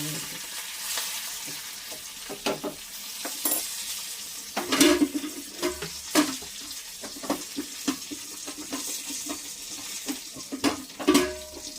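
Asafoetida tempering for dal sizzles in hot oil, with short crackling bursts and stirring clatter over running water in a kitchen, heard close with no talk.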